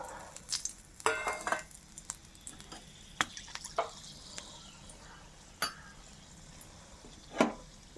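Whole black pepper, cloves and bay leaf tempered in hot oil give a quiet sizzle, broken by scattered clinks and scrapes of stirring in the pan, with no talking.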